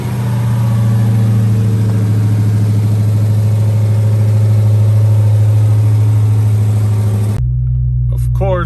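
Dodge Charger Widebody Hellcat engine running loud and close with a deep steady rumble for several seconds, then cutting abruptly to a quieter low hum as a voice speaks.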